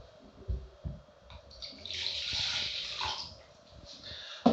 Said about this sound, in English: I always use lukewarm water.